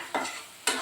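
Garlic paste, onion and spices fry in a pan for mutton rassa, a close hissing sizzle marked by two quick stirring scrapes.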